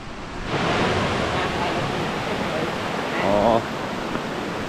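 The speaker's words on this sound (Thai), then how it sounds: "เห็นสายน้ำไหลมาจากในถ้ำเลยอ่ะ" Steady broadband rush of a stream pouring out of a cave in Laos, a continuous close water roar that swells slightly for a moment near the end, with no talk over it.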